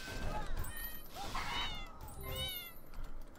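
Cats meow repeatedly in the video game Fowl Space. The high, rising-and-falling calls come one after another and sit over a busy wash of game sound and music.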